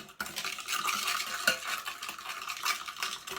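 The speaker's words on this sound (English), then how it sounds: "All the glitter's at the bottom and it's making like a scrapey sound." Glitter slime is stirred and scraped in a bowl, giving a continuous gritty scraping and squelching texture. The sound is steady and close, with one sharper scrape partway through, and no talking.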